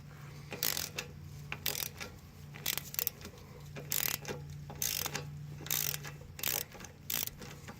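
A ratchet wrench works a 12 millimeter brake line nut on a 2013 Hyundai Sonata 2.4L during engine and transmission removal. Quick bursts of close metallic clicking come in irregular spurts, with a faint low hum underneath.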